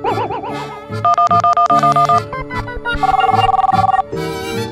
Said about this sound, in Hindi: बेल जा रही है।